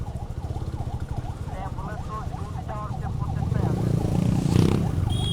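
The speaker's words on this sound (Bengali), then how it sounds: "সামনে কিসে অ্যাম্বুলেন্স নাকি" An ambulance siren wails with a rapid, repeating up-and-down pitch on a jammed road in Feni at foggy dawn, growing louder and closer over a low traffic and engine rumble.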